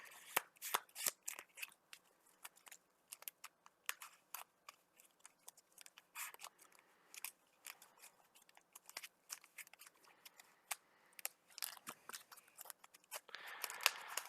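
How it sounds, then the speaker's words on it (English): A deck of playing cards being shuffled by hand at a multiplayer deckbuilding card game table, a long run of quiet, crisp riffling clicks and flutters in uneven bursts with no talking. "So we're just doing a little bit of shuffle over here."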